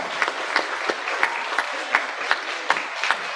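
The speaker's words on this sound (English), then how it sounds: "Let's give them a big round of applause for an excellent job." Crowd at a county livestock show applauds the junior showmanship contestants; sustained applause with a run of sharper, evenly spaced claps standing out roughly every third of a second, moderately loud and without speech.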